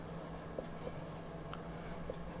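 Pen or chalk writing out a statistics formula for the grouped-data geometric mean, a faint steady scratching with a few soft taps against a constant low room hum, no talking.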